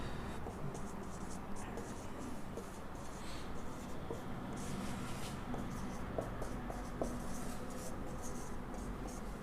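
A teacher writes on a board during a Hindi lesson on squares and square roots, producing a constant stream of close, scratchy strokes and small taps over a steady room noise.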